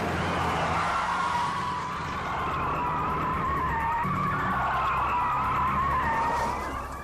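Tires squeal in a long, loud skid as a car rams another from behind and swings through a U-turn during a police chase reenactment, with engine noise underneath throughout.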